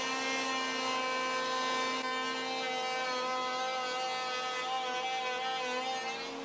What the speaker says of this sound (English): I'm going to remill the left side slot.